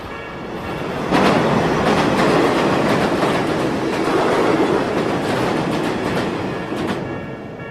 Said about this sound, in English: The passing train gave me a moment to think about my response.